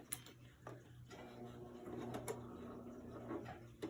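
A home sewing machine stitching a fabric face mask, giving soft, close ticking and whirring with a few sharp clicks, quiet and low, with brief pauses.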